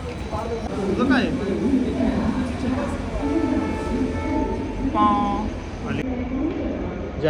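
A train rumbles past a station platform, a loud continuous low roar with squealing metallic tones and a horn-like whine midway, while people talk nearby and birds chirp faintly.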